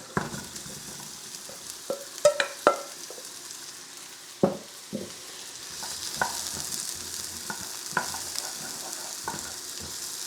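Garlic and onions hitting hot oil in a pan for beef and broccoli, with sharp clattering stir strokes followed by a steady soft sizzle that builds and holds, punctuated by occasional utensil clicks.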